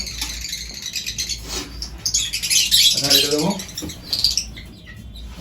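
Lovebirds and cockatiels chirp steadily in an aviary colony during feeding, with a brief exchange of speech close by over the continuous bird chatter.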